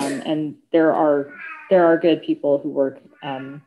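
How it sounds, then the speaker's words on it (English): A pet cat meows loudly several times in a home while someone talks over and between the calls. "That was my cat."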